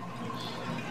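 Water drains away in a steady, close rushing gurgle, continuous and moderately loud for under a second, with no voices.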